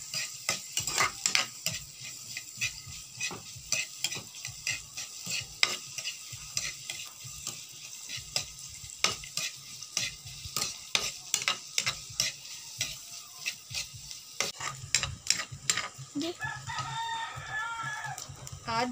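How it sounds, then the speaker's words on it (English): Onions fry in a hot pan with a steady sizzle, broken up by frequent sharp clinks and scrapes of a stirring utensil. A rooster crows in the background toward the end. "Cook the onions until fragrant."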